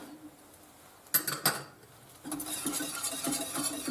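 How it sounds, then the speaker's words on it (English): A metal spoon scrapes and clinks against the corners of a pan while making lemon curd, with two sharp taps followed by a run of quieter scraping and clatter, close and fairly faint. "get a spoon, just so that I can make sure I take away any sugar and build up right on the corners of the pan"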